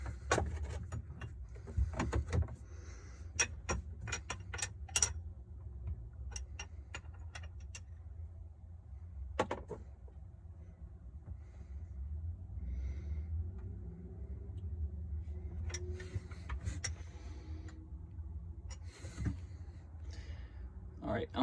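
Small bolts being worked loose from a Sea Doo carburetor with a wrench: scattered sharp metallic clicks and ticks, some in quick bursts, over a low steady rumble, with a voice murmuring faintly at times.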